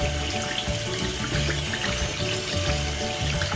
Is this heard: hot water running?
yes